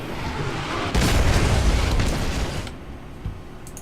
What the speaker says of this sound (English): Enemy payload firing.